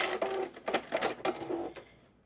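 A sewing machine stitches off the edge of a fabric headband, a quick run of rapid mechanical needle clatters in close, even pulses that slow and fade out at the end.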